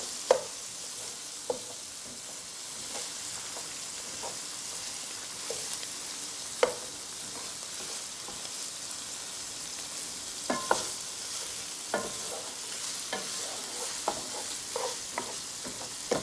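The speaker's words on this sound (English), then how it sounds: "Oh, that garlic is cooking really nicely in here too" Ground beef and garlic frying in a pan during a Korean beef cooking session, a soft steady sizzle broken by scattered clicks and scrapes of stirring, fairly faint.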